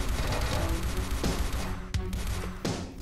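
Gunfire from the video game Eisenfaust: Legacy, a dense, continuous fusillade of shots with a few sharper cracks standing out near the end, fairly loud with no talking.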